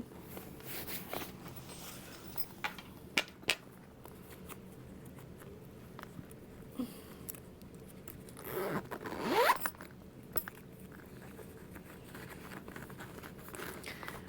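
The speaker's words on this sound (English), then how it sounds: "close that zipper pocket" A zipper pocket on a sewn fabric bag is pulled closed with one quick rasping zip, preceded by soft handling and rustling of the fabric.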